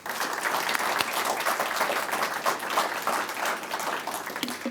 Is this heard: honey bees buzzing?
no